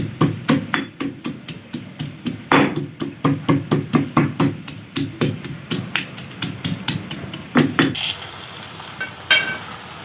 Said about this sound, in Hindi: देखिए मैंने लहसुन अदरक कूट लिया मोटा मोटा